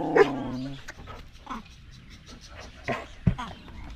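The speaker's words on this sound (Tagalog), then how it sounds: "Gusto makipaglaro yung tuta, oh." A puppy barks and whimpers close by, with a burst of high yelps at the start followed by scattered short barks and whines. Background sounds and faint voices are mixed in.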